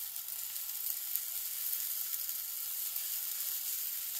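Takoyaki batter sizzling in a pan as small bits of octopus are sprinkled into each cavity, a steady close frying hiss without pause and no voices.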